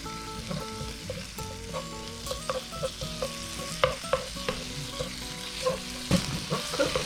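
Garlic and butter frying in a pan with a steady close sizzle, broken by repeated scrapes and clinks of stirring; no one talks.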